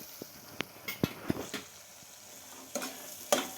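Onion-based mutton masala cooking in a pan as turmeric goes in: sparse, quiet sizzling with a few sharp clinks and scrapes of a spoon against the pan, scattered irregularly, close and without talk.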